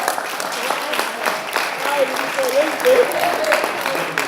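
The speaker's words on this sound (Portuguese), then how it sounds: "Uma salva de palmas para o Ronaldão." A church congregation breaks into a sustained round of applause, a steady wash of clapping that lasts throughout while a voice speaks over it.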